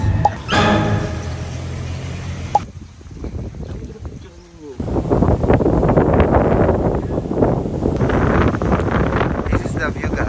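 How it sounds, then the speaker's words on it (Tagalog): Strong wind gusts buffeting the microphone at a Boracay beach viewpoint, trees swaying, a loud continuous rumbling roar with people talking over it throughout. "sobrang lakas ng hangin"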